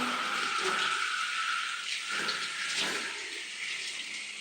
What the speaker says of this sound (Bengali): বাসন ধুচ্ছি